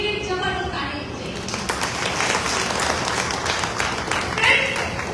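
An audience applauds for a team at a business training event, a mass of clapping rising under a voice speaking over it.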